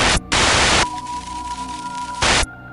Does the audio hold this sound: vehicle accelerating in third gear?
no